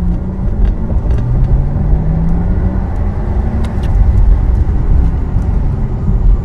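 Porsche Taycan Turbo electric car plays its artificial in-cabin drive sound as a low synthetic hum with a gliding tone over steady road rumble, heard from inside the cabin with no talking.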